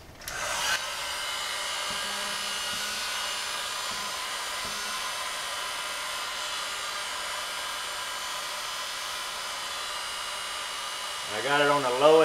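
Heat gun on its lowest setting blowing steadily while warming an emblem off a GMC Sierra 2500 Denali truck, a continuous even airy roar close by for most of the stretch, with brief voices near the end.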